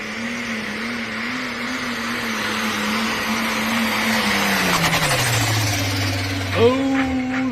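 A pulling tractor's engine at a county fair tractor pull holds a loud, droning roar, then drops in pitch and sputters as it quits near the end, with a commentator talking over it.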